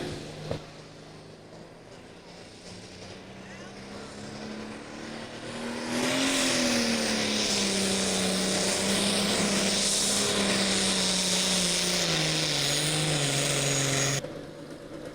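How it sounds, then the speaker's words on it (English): An 8,500 lb limited pulling truck roars at a tractor pull, its engine note climbing sharply and holding high and loud through most of the clip before dropping off near the end. "Listen to the RPMs and watch that front end."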